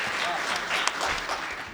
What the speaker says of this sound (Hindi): आप हज़रात ज़ोरदार तालियों से इस्तकबाल